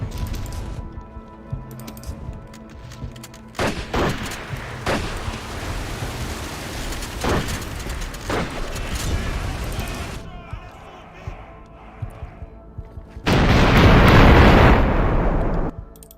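Artillery shells pound tanks in the World War II strategy game Total War 1942, with repeated heavy booms and blasts over a continuous battle roar and a loud sustained burst near the end.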